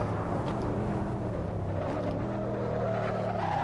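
A McLaren race car in the game Assetto Corsa drives with a steady engine drone, faint tyre scrub and small pitch shifts, heard alone without talk.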